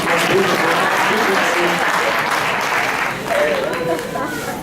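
Steady applause from an audience at a motivational talk, a dense wash of clapping sustained at even loudness throughout, with a brief swell near the end.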